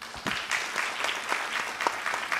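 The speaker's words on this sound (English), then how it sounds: "give a warm round of applause to our speakers" A panel discussion audience gives the speakers a warm round of applause, steady, full clapping from a crowd that continues throughout without talk.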